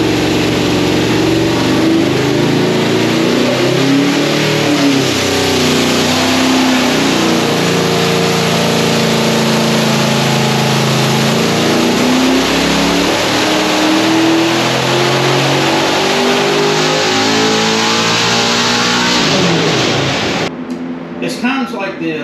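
Carbureted car engine on a dyno, run with a 2.5-inch open spacer under the carb, revs loudly and steadily for about twenty seconds, its pitch rising and sweeping through the run before cutting off abruptly near the end.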